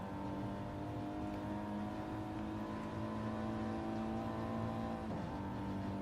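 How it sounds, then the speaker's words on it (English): An Audi race car engine in Gran Turismo Sport holds a steady, loud sustained drone with layered harmonic tones through the whole stretch, dipping briefly near the end. "that Audi engine is singing"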